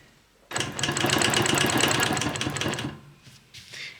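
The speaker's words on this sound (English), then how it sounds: "I am working on the Bernina Q16, a sit-down machine" A Bernina Q16 sit-down quilting machine runs in a fast, even burst of stitching for about two and a half seconds, close and clear, then stops, followed by a few faint handling sounds.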